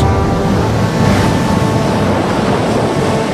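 Huge ocean swells roll over roiling seas, a dense, continuous roar of surf and wind buffeting the microphone, loud and unbroken with no voices.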